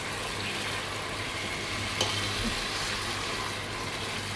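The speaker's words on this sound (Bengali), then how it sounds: "এটাকে আমি একটু সুন্দর একটু ভেজে নেবো হালকা একটু" Chop suey fries in a pan after a splash of vegetable stock, making a continuous soft sizzle with light stirring, steady and close, with no talking.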